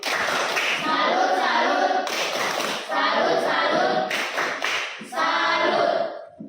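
A class of students performs a rhythmic salute clap at the end of a group presentation on environmental pollution, in three loud bursts of patterned clapping separated by short pauses.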